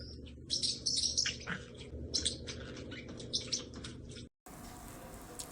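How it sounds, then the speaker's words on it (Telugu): Small birds chirp and tweet in quick bursts over a steady background hum, fairly faint, with brief pauses between calls. "మన ఇంట్లో కూడా ఈ పక్షి అండి"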